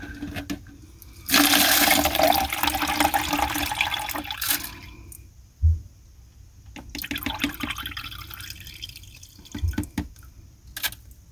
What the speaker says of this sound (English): So I'm going to strain this rice out.